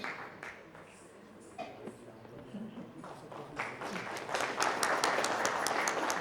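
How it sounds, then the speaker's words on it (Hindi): An audience at an award ceremony breaks into applause, starting as scattered claps and swelling into louder, denser clapping toward the end. "Please give a huge round of applause for Dr. C.S. Kochar"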